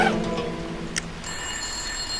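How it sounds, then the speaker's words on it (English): An electronic telephone ring in the horror video game White Day, a steady tonal trill over a low ambient drone in a school setting, fairly loud and alone. "The phone's ringing."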